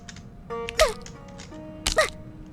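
A female character lands after a fall in the shooter game Sudden Attack. Two short landing sounds come about a second apart, each a crisp thud with a brief, tonal, grunt-like accent.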